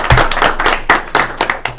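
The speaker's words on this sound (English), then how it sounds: "So I'm going to help give him a round of applause," A small group at a town zoning board meeting gives a short round of applause, close, uneven hand claps in a quick burst.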